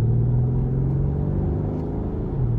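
A 2019 Mercedes-AMG GLS 63 with a 5.5-liter bi-turbo V8 giving a loud, steady, deep rumbling drone from inside the cabin while driving, with no voices.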